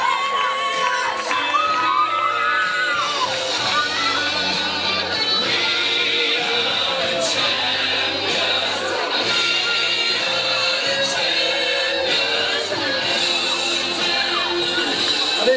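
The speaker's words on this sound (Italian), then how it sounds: "Un applauso" A crowd in a church square in Castrofilippo, Sicily, applauds and cheers at the close of an evening casting show, with whoops and children's shouts carrying over steady clapping throughout.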